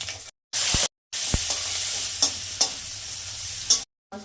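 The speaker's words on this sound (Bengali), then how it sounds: "মশলাটা দিয়ে কষিয়ে" Spices with ginger, garlic and dried red chilli sizzle loudly as they are stir-fried in a pan for egg curry, with a continuous hiss broken by brief gaps and sharp scraping clinks of the spatula.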